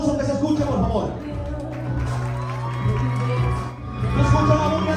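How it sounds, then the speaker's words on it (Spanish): Crowd at a quinceañera entrance celebration cheering, whooping and shouting, with children's voices mixed in, over steady party music; the din is loud and sustained throughout, with voices prominent in the mix. "Escucha la bulla."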